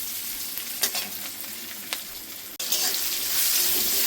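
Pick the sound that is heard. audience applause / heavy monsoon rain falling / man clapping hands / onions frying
onions frying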